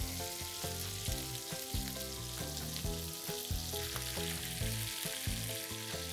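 Crushed garlic fries in a pan in a professional French kitchen, a dense, steady sizzle that stays even and constant, with a tonal background layer beneath it.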